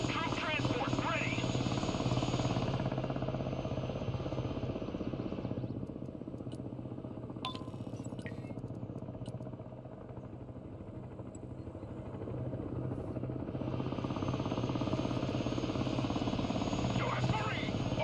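Helicopter in the Broken Arrow video game during a US Marines multiplayer battle: a loud, continuous rotor and engine drone that eases back midway and then swells again, with game effects mixed in.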